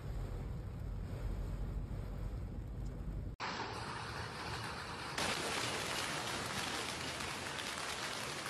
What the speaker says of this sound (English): Rome came to a sudden halt after a severe hailstorm swept through the city, flooding the streets